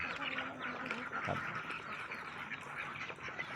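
Muscovy ducks at a Thai duck farm make soft, low calls against a continuous background of farmyard noise.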